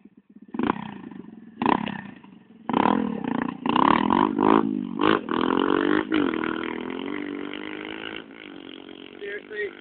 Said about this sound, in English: Richie Lewis, John Brooke, and Nathan Lewis on the pit bike 110